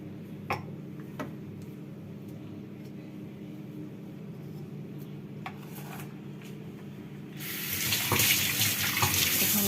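Water pours into an idli steamer jar: after several seconds of quiet room tone with a few light ticks, a steady, close hissing stream starts near the end.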